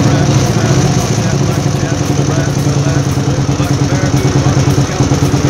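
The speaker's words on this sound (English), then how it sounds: "the sound on these pipes, it's dual exhaust. Got a pretty nice sound." A 1997 Ural Tourist motorcycle with a carbureted engine and dual exhaust idles steadily up close, a deep, throbbing exhaust rumble with a fast, even pulse throughout.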